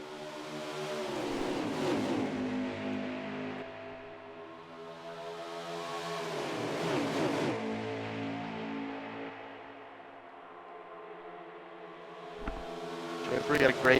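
Pack of CRL series race trucks accelerating off a green-flag restart at Atlanta, engines swelling loudly in two broad waves of harmonic roar that fade between, with a sharp thump near the end and a brief burst of higher noise.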